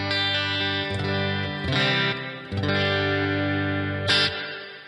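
Electric guitar played through a Quad Cortex capture of a Kustom practice amp with plate reverb, clean sustained chords struck several times, each ringing out with a reverb tail.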